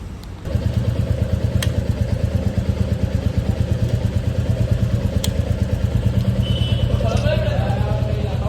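A motorcycle engine idles close by, a steady low rumble with rapid regular firing pulses that holds for several seconds.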